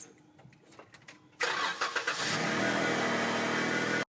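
A lifted stick-shift Jeep cranks for a moment, then its engine cold-starts with a loud catch and settles into a steady, rough idle close by before cutting off abruptly.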